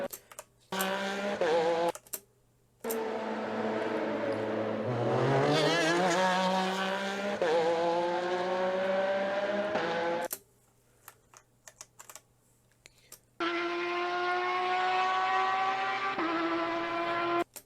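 A race car engine screams at a high pitch in several long bursts. Its pitch climbs and wavers between short silent gaps.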